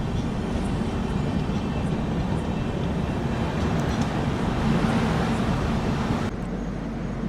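The 12840 MGR Chennai Central to Howrah Mail superfast express rumbles along the track, a loud, steady low roar heard from on board, with faint voices under it.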